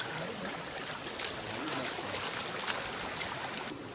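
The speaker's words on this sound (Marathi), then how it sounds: "पाण्याचा आवाज" Water flows steadily in a stream near Gothane, Malvan, a continuous broad rushing hiss with faint splashes, close and unbroken throughout.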